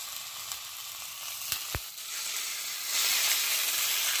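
Peppered, salted woodcock wrapped in bacon sizzles in bacon grease, a steady close frying hiss with a couple of sharp clicks midway, then a louder, brighter sizzle as another piece goes into the pan.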